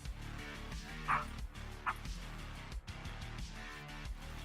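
Pet dogs barking at a house door inside a home, several sharp yips and barks, somewhat distant and muffled, standing out over steady background music from a gaming stream.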